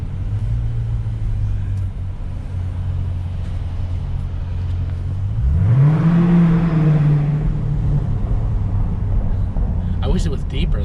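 A Dodge Challenger 392 fitted with Dynomax Race Bullet mufflers gives a single rising rev that swells and settles back over a steady low exhaust rumble, fairly close.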